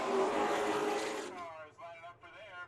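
Late model race cars drag race toward the finish line at Colorado National Speedway during a championship finale. A loud engine roar fills the start, then fades into faint engine whine while a commentator talks over it.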